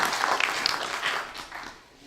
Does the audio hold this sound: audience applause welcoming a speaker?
yes